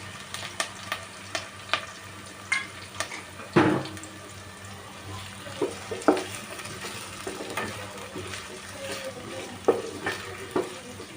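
Onions, chillies and curry leaves sizzle steadily in hot oil, with repeated close stirring clatters of a spoon against the pan over the constant frying hiss.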